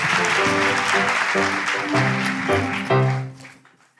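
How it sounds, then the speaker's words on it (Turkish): A studio audience on a Turkish comedy talk show claps loudly and continuously for several seconds, mixed with a bright musical accompaniment, before the applause fades away at the end. "Herkesi alkışlarla gönder yerine."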